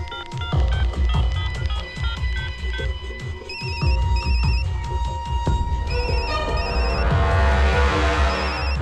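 A mobile phone rings with an incoming call, its electronic ringtone repeating as a bright patterned melody over a steady backdrop of dramatic film music.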